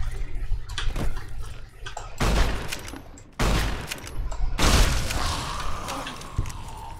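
Rapid bursts of gunfire from Fallout New Vegas ring out in loud clusters, with brief pauses between volleys and mechanical clatter in the background.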